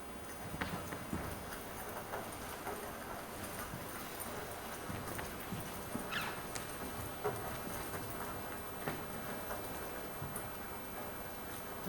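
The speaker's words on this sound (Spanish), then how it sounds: "Afuera la lluvia comienza a caer." Rain falling outdoors, a soft continuous patter with scattered heavier drops spread evenly across the whole stretch, quiet and steady with no voices.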